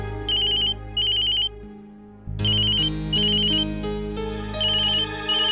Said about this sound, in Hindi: अंशु के स्कूल से फोन?